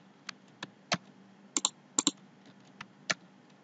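Scattered computer keyboard taps and mouse clicks for copy-paste, about a dozen sharp, close clicks spaced irregularly, some in quick pairs, against a quiet background.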